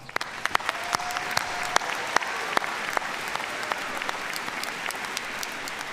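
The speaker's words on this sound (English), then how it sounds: "Please help me give them all a round of applause" An audience at a college commencement ceremony applauds steadily, a sustained patter of many hands clapping with sharp individual claps standing out, filling the hall for the whole stretch without speech.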